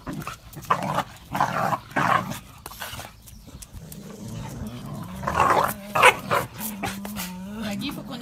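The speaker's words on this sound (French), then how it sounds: "Il ne sait pas jouer sans aboyer, Bowie." A dog barks repeatedly while playing indoors, sharp close barks in quick bursts with whimpers and yips between them, as a person talks over the noise.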